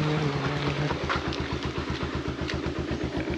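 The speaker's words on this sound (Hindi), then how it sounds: "तो उसी में घूम रहे हैं बाइक में।" A motorcycle engine putters in a steady rapid low pulse while riding around Campbell Bay on Great Nicobar Island, close and continuous with no talk.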